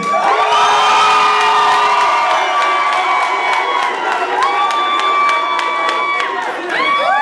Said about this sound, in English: Make some noise for Jesse